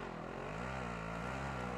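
A helicopter approaches in the video game Warzone, its rotor and engine making a loud, steady drone that holds without a break.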